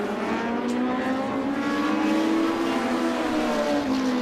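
NEMA midget race cars roar around the Waterford Speedbowl oval during a feature race, a steady, loud engine drone with slight pitch shifts as the pack circles, continuous throughout.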